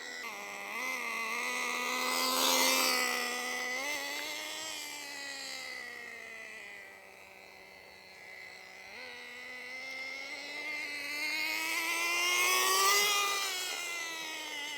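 Team Associated RC10GT radio-controlled car driving: a high, whining engine note that climbs and falls as the throttle changes, sustained and fairly close, with no talking.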